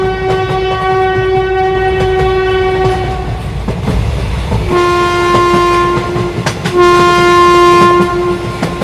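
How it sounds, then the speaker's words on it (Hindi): A cartoon train pulls into a station, sounding a loud, sustained horn in two long blasts over rumbling wheels and clickety-clack on the rails. "तभी इन लोगों को ट्रेन की आवाज सुनाई देती है।"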